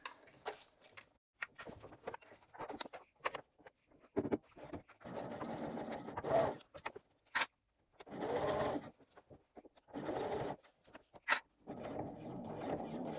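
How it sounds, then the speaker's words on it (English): A sewing machine stitches bag seams in short bursts of whirring, stopping and starting between pauses with small clicks, close and fairly quiet. "We will sew 4 seams, backstitching at the beginning and backstitching when we meet up with this side seam here."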